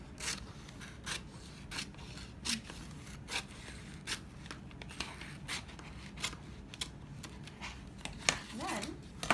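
Scissors snip through sticky book cover film in a row of short, crisp cuts at a fairly regular pace, close by and quiet, with faint rustling between the strokes.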